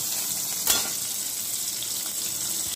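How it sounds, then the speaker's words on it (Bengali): Paneer pieces fry in hot oil with a soft continuous hiss, and a brief clatter as something is stirred or dropped early on. "একটু একটু করে পনিরগুলো ভেজে নেব"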